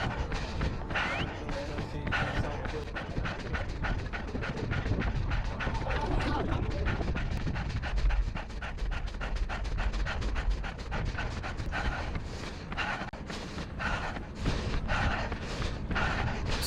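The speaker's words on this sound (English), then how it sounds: "At this point, obviously my breathing is extremely heavy." A runner breathes hard and heavily near the finish of a 5k time trial, with rapid panting in a steady rhythm that runs close and loud throughout, over outdoor running noise.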